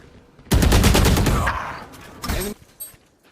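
An Odin machine gun sprays in Valorant, a loud sustained burst of rapid automatic fire lasting about two seconds, followed by a few short, sharp shots, with no voices.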